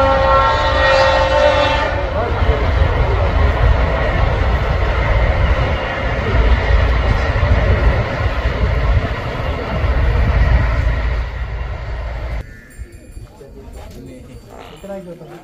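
A train passing near a rural station about three kilometres away sends a loud, continuous rumble with a horn sounding at the start, then cuts off abruptly near the end. Voices can be heard talking over it.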